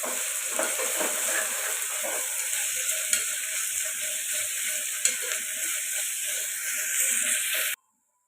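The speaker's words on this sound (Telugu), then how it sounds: "ఇందులోకి ఒక స్పూను అల్లం వెల్లుల్లి పేస్ట్ అయితే వేసుకుంటున్నాను ఇది పచ్చివాసన పోయేదాకా ఫ్రై చేసుకోవాలి" Ginger garlic paste fries with onions in a pan for a country chicken curry. The steady sizzle comes with scraping stirs and the odd clink, then cuts off abruptly near the end.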